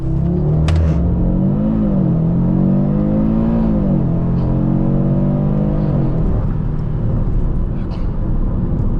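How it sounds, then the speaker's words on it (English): Audi RS3 launching under launch control on a backroad, heard from inside as the engine revs hard and climbs through quick gear changes, loud and close, with someone talking. "this will be a good chance to get the launch control in"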